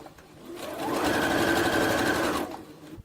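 A sewing machine stitches a blue tunic, its motor winding up into a steady close hum of rapid needle strokes for about a second and a half before slowing to a stop.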